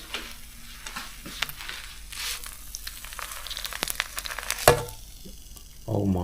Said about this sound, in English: when I make the fried egg, I usually use the very weak fire